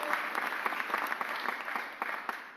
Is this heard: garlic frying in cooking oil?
no